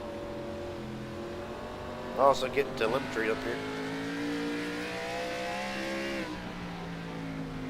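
An onboard race car engine drones steadily at high revs, its tone slowly shifting through gears, during a Cup Series sim race at Five Flags, with someone speaking briefly over it.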